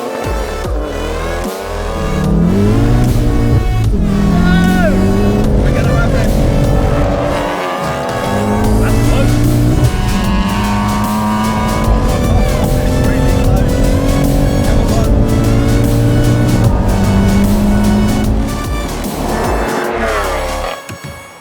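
A 500 bhp BMW M140i and a 500 bhp MK7 Golf R drag race down a runway, engines roaring loud and close through repeated gear changes, with rising pitch sweeps and brief breaks between shifts.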